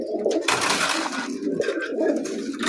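Grizzle pigeons coo in repeated low, throaty rolls, close and steady, with other birds calling faintly behind them.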